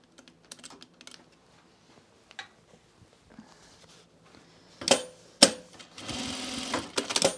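A sewing machine stitches blazer fabric in short quiet bursts at first, then runs in louder, faster stretches near the end, close up, with no talking.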